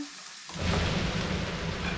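Finely chopped garlic and onion hit a hot pan and start frying, a sudden burst into a loud, steady crackling sizzle that carries on alone.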